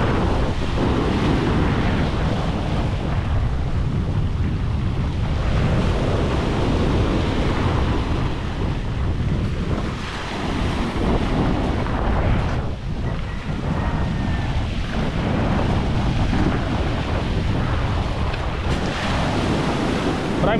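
Sea waves roll and break along the shore in a continuous rough wash, with heavy wind buffeting the microphone throughout.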